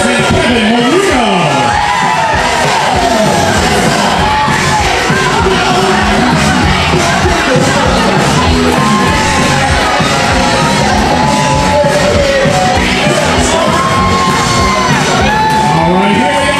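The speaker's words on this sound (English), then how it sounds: "how about a nice round of applause for bridesmaid Katie Natalie and Natali, escorted by the groomsman Kevin Marino" Wedding guests at an outdoor reception in Look Park, Florence, Massachusetts, whoop, shout and cheer for the bridal party as bridesmaids and a groomsman enter, with a loud, continuous crowd roar of overlapping yells and cheers over music.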